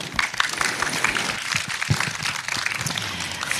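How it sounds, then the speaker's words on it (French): An audience at a planetarium evening talk applauds the technical staff, a dense, continuous patter of many hands clapping at moderate volume throughout. "Et la régie technique, je pense qu'on peut les applaudir."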